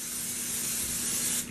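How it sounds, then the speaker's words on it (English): Cooking spray hisses steadily onto a pan in one continuous close burst that lasts about a second and a half, then tapers off, with no talking. "So we have to spray the pan first."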